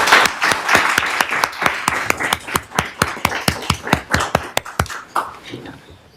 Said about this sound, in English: Now a round of applause, please